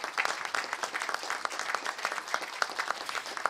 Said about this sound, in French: une bonne main d'applaudissements pour ces gens qui vous ont suivis